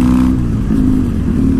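Motorcycle engine running steadily while riding along a main road, a continuous low drone with a sustained hum and no breaks, loud and close throughout.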